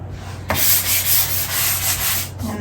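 Steady abrasive sanding across a laminate countertop being prepped for primer and paint, a continuous close rasping rub with a sharp onset that runs unbroken for a couple of seconds.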